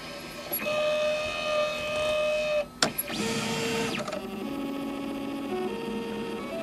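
A RepStrap Mendel 3D printer drawing with a pen whines and hums as its stepper motors move, steady tonal runs that shift pitch, broken by a sharp click and a brief pause midway, close and fairly quiet.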